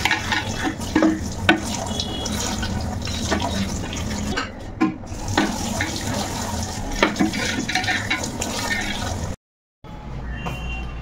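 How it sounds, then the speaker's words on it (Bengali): Oily kitchen utensils are scrubbed close up with a scrubber and detergent, making continuous wet rubbing and splashing with scattered clinks of metal, broken by a brief silent gap near the end. "ছোবা নিয়ে যে ঘষা দিচ্ছি একেবারে সুন্দর চকচকে হয়ে যাচ্ছে"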